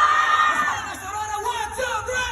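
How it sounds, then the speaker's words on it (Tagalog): Festival crowd at Aurora Fest 2025 yelling loudly on cue, a dense wall of massed shouts and screams sustained throughout at close, steady volume. "Aurora, pwede ba kayong sumigaw yung saan,"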